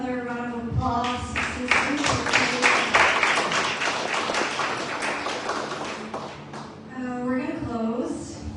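Church congregation clapping in a broad, steady round of applause that builds quickly, holds for several seconds and tapers off, with voices before and after.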